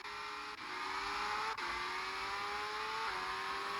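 An F1 car in a racing video game pulls away from its pit box on fresh Hyper Soft tyres at the Russian GP, a steady, loud engine whine rising in pitch with brief gear-shift dips.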